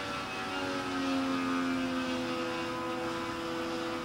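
Engine of an RC airplane coming in to land, a steady droning buzz that holds at an even level throughout, with no voices.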